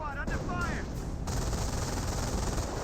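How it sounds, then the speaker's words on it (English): Schwimmwagen machine gun firing in the World War II strategy game Company of Heroes, a dense crackle of automatic gunfire amid battle noise, with a short whistling sound early on before the firing carries on steadily. "Schimwagen firing away."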